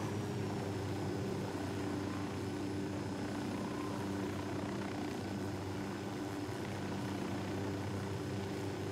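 Steady low helicopter rotor drone in the video game Ghost Recon Wildlands, distant and unbroken, with a faint high whine over a constant rumble; no voices.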